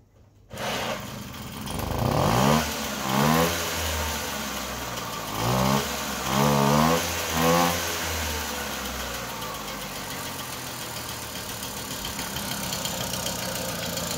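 A rebuilt E50 dirt bike engine sputters to life after a rebuild, revving in several short bursts before settling into a rough idle, loud and close with no talking.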